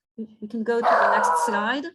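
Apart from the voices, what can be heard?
dog barking in the background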